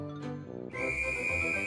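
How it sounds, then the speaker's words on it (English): A toy whistle in a children's Easter cartoon gives a short chirp and then a bright, sustained shrill tone, close and clear after brief musical notes. "You'll need that whistle to blow and open the golden egg."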